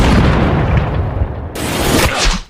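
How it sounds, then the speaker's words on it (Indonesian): A sniper's gunshot rings out in a film, a loud booming blast over a dense action soundtrack, followed by a sharp crack and a quick fade. "Phoenix berhasil ditembak tepat mengenai kepalanya tanpa harus melukai Brandon"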